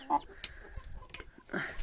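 Rooster at a backyard flock of hens, giving a few short close clucks among scattered scratching noises while someone speaks to it.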